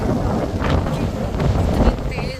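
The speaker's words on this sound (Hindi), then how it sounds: "वो तो आप हवा की आवाज़ से ही सुन पा रहे होंगे कि यहाँ का मौसम कितना मस्त है।" Strong wind buffets a microphone outdoors near a jyotirlinga temple area under a cloudy sky, a steady loud rumbling roar that swells at moments across the whole stretch, with no talk.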